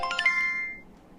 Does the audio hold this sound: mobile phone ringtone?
yes